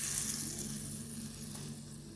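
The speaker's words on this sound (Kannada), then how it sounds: "ಎಣ್ಣೆ ಕಾಯ್ದುಂಡು." Hot oil sizzling in a pan, a faint continuous hiss with a low background hum, steady and unaccompanied by talk.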